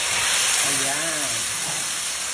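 Liver hitting a hot wok, a loud continuous steamy hiss that stays strong throughout, with a short spoken word over it.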